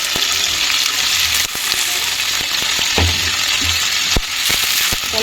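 Paneer deep frying in hot oil in a pan, a loud steady sizzle and crackle with occasional sharp pops and stirring clinks, close up and without talk.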